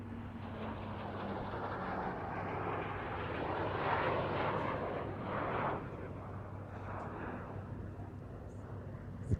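Hawker Hunter and Canberra jets in matching silver livery fly past at RAF Waddington airshow, a broad distant roar that swells and fades as they pass.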